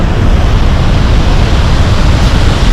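A large waterfall in Kalimantan roaring as a loud, constant wash of broadband rushing water, heavy in the low end and unbroken throughout, with no voices.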